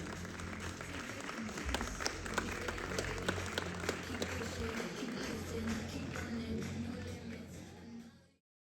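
An audience at a bodybuilding competition in Prienai applauds the under-23 youth category, a dense, steady wash of clapping from the crowd under faint background voices, running for several seconds before cutting off.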